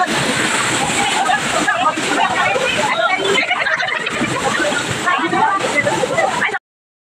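A waterfall rushes and splashes close by in a steady, broadband roar, with people talking in the background; the sound cuts off abruptly near the end.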